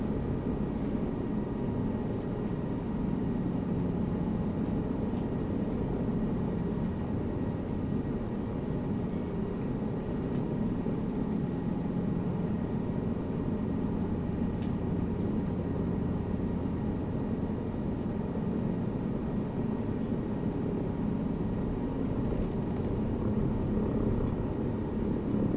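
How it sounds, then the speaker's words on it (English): A helicopter in Microsoft Flight Simulator 2024 drones steadily with a loud, continuous rotor and engine rumble that holds level throughout, with no talking over it. "I'm flying a helicopter"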